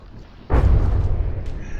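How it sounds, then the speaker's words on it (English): A sudden deep boom bursts in after a quiet moment, followed by a rumbling roar that lingers and slowly fades, from explosions in the video game From the Depths. "the explosions from the Overlord keep launching it upwards"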